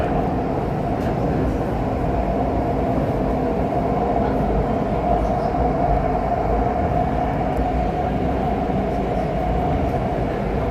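A REM light rail train in Montreal rolls along with a steady low rumble and rattling of the car, continuous and close, with no voices standing out.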